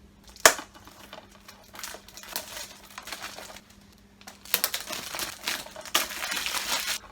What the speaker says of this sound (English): take the plastic off